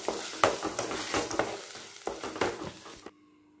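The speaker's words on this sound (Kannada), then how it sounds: "ಹಾಗೆಯೇ ಒಂದು 2 ರಿಂದ 3 ನಿಮಿಷ ಎಣ್ಣೆಯಲ್ಲಿ ಫ್ರೈ ಮಾಡಬೇಕು" Tomato paste frying in oil for tomato chutney, a soft sizzle under repeated scraping stirs of a spoon in the pan, several strokes that stop abruptly into silence near the end.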